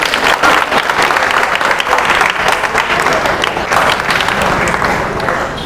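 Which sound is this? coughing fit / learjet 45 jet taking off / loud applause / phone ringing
loud applause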